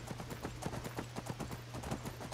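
A horse's hooves clip-clop in steady rapid rhythm as it is ridden in Skyrim, close and continuous throughout with no talk over them.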